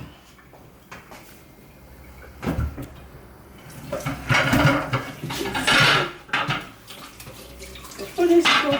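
Tap water runs and splashes as okra is washed by hand in a home kitchen, with dishes clinking; the splashing swells in uneven bursts, loudest in the second half.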